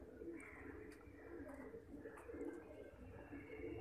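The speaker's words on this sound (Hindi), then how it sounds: "सब उड़े उड़ाए कबूतर हैं," Pigeons coo softly at a loft with repeated low throaty calls overlapping at a moderate distance, with a few faint chirps and light rustling in the background.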